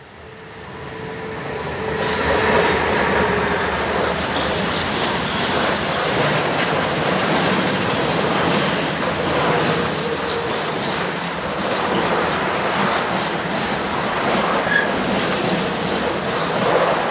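Electric locomotive 1044-105 hauling a lorry-carrying train past, a loud continuous rumble and rushing roar with rail clatter that builds in and holds for the whole pass, no voices.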